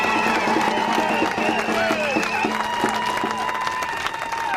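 Crowd at an outdoor education rally for teachers and labour groups, applauding and cheering together, with sustained clapping, whoops and shouts over a steady background of horn-like tones.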